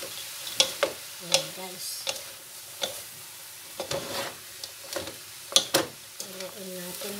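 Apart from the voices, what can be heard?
stirring pancit noodles frying in a pan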